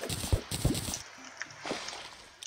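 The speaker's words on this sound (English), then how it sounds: "Oh, I hear water." Water in Terraria, heard as a few soft liquid splashes and gurgles near the start, then quieter faint dripping and bubbling, close and alone.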